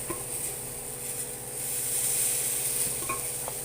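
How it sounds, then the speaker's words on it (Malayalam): Dosa batter poured onto a hot pan greased with coconut oil, for masala dosa, gives a steady, close frying hiss that swells midway and runs without pause, with a few faint utensil scrapes and no talk. "മാവ് ഒഴിക്കുന്നു."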